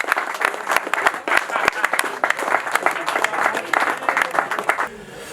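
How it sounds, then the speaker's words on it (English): A crowd at the RiverMasters 2019 fishing match applauds a newly announced champion with a burst of clapping, individual claps standing out before it thins and fades near the end. "Big round of applause, please."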